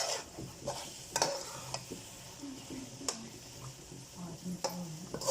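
Grated carrots roasting in desi ghee for gajar ka halwa, stirred with a spoon: soft scraping strokes and occasional sharp clinks against the pot over a gentle, steady sizzle, no talking.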